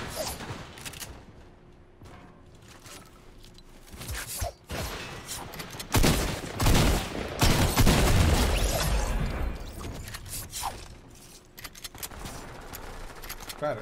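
Gunfire in Fortnite, with bursts of game shots and mechanical clatter building to a loud, dense stretch in the middle, over a busy game soundscape.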